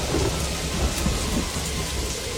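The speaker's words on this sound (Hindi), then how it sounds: "सिर्फ बिजली कड़कने की आवाजें आ रही हैं।" Heavy rainstorm with thunder over a village, a steady loud wash of pouring rain with deep rumbling beneath, no voices.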